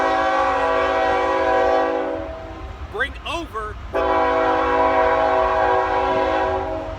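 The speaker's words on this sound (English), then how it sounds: "we got a train coming." A passing train sounds loud and close, with a rumbling engine and a steady, blaring horn that breaks off briefly midway, overlapped by a short burst of speech, then resumes sounding strongly to the end.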